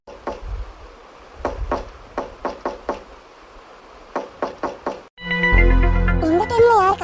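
Repeated knocking on a door comes in several quick bursts of sharp raps separated by short pauses, fairly close and loud. A tonal, musical sound swells in and takes over near the end.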